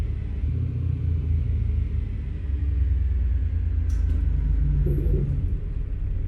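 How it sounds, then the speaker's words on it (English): A six-cylinder car engine in Euro Truck Simulator 2, a loud, steady low rumble that holds constant, with a brief faint click and a slight tonal shift late on. "It really sounds like a 6-cylinder."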